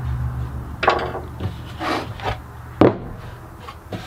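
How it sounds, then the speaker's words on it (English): Screws are driven into a 3D printed guitar neck routing jig frame, giving a few short scraping and grinding bursts with gaps between, close up and without talk. "so I'm gonna add the screws anyway."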